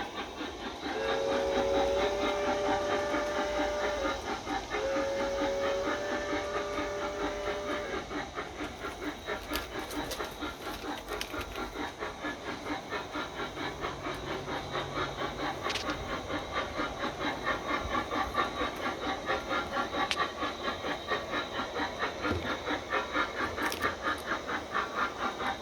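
A small steam train pulling new cars comes into a station, giving two short steam whistle toots, then a steady rhythmic chuffing and hiss of steam as it rolls nearer.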